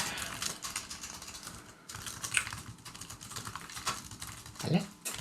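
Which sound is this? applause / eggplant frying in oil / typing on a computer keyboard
typing on a computer keyboard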